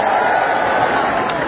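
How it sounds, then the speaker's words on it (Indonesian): A large outdoor crowd at a political rally in Ciamis, West Java, roars with loud, close, continuous cheering and clapping in a brief burst. "Tepuk tangan buat semua yang di sini."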